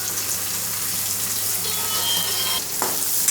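Chopped garlic and onion sautéing in hot oil for a brinjal and potato bhaji, a loud, continuous hissing sizzle close by, with a sharp scrape near the end.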